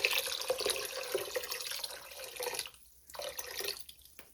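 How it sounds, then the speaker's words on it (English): Water running into a cooking pot for bean soup, a steady splashing pour that cuts off briefly and resumes for a second burst. "And I also have 4 cups of water."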